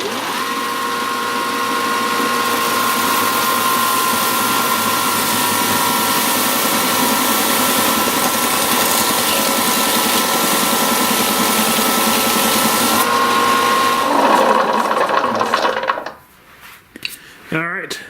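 A power sander grinds down rubber motor mounts for a V8 Crossfire transmission cross member in a driveway, a loud steady whirring drone that runs continuously, then cuts off near the end into quieter clatter.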